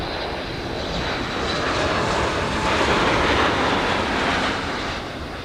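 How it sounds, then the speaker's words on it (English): Southwest Boeing 737 MAX 8 arriving from Dallas lands at LAX, a steady broadband jet roar that swells toward the middle and eases slightly at the end, heard alone with no voices. "We have a Southwest coming in from Dallas, Texas, flight 184, a 737 MAX 8."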